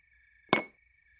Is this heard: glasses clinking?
yes